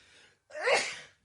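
One sharp, breathy sneeze bursts out close to the microphone after a short intake of breath, standing alone with no talking around it.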